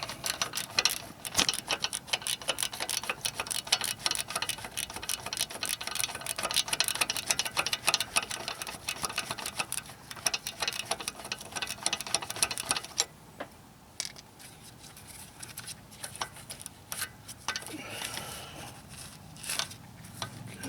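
A ratchet wrench works loose the 10mm bolt holding the brake line on a 1996-2007 Ford Taurus front strut, a rapid continuous clicking close by, slowing into sparser clicks partway through.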